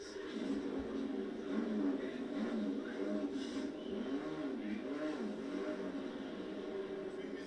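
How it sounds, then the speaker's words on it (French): A BMW M3 race car at a 24-hour race rejoins the track, its engine revving and accelerating at a steady middle distance, with commentary over it. "La BMW M3 reprend la course en 5e position et la chasse commence."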